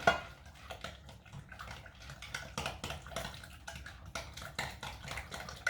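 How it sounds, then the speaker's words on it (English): Onion stirred in a pan with salt and black pepper, a steady run of scraping and clinking utensil strokes against the pan, fairly quiet and close, with no talking. "Stir it up"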